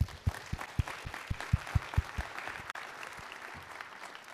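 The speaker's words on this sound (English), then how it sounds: "Can we please give a round of applause to Tim Rogers" Applause from a high school assembly audience for a guest prosecutor, steady crowd clapping with a few louder near claps thumping in a regular rhythm over the first half.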